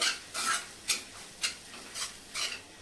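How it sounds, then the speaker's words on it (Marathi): Grated fresh coconut is stirred into a cooked wild monsoon vegetable, with about six regular scraping strokes roughly every half second, quiet and close, with no speech. "मी ते ओल्या नारळाचा चव टाकते मिक्स करायचं आहे"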